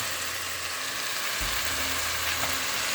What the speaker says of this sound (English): some of the beef broth, I'm just going to put that in the bottom of the pan